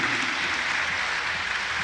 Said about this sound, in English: Big applause, nevertheless